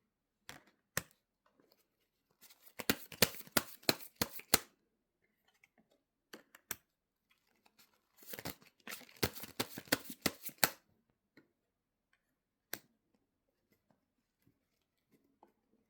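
Tarot cards handled and laid open, with bursts of quick papery shuffling and riffling, scattered single card taps and flicks, close and quiet with long silent gaps between.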